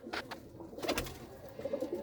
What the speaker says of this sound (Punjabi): ਇਹ ਹੈਗੇ ਆ ਜੀ ਕਿੱਕਰ ਮਾਨ ਕਬੂਤਰ ਜਿਹੜੇ ਉਹਨਾਂ ਵਿੱਚੋਂ ਹੈ ਇਹ ਕਬੂਤਰ